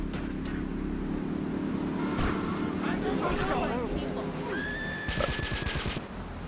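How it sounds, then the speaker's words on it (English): Bursts of rapid gunfire rattle amid engine noise and game sound effects in GTA 3 Definitive Edition, with a voice talking over the action. "I hear gunshots."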